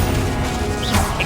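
A Confringo explosive spell strikes its target in Hogwarts Legacy, a dense, crashing impact with a loud, sustained broadband roar and a brief flare of brighter debris-like crackle near the end.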